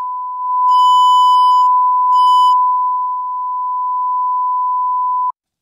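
A steady test tone runs through a modeled Neve 1073 or API 512c preamp and gets driven harder until it overloads. It is a loud, constant pitched beep with harmonic distortion bursts appearing briefly before it cuts off abruptly.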